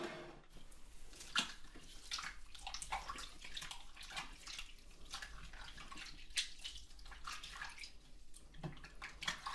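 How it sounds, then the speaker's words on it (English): Hands rinsed under a running tap, a soft continuous splash of water that rises and falls as the hands move through the stream, close and fairly quiet, with no talk. "I'm just going to rinse my hands, okay?"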